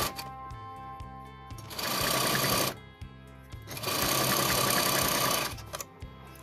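A sewing machine stitches a kitchen apron in two long, loud bursts of rapid mechanical whirring, with slower single needle strokes and short pauses between them, close to the microphone.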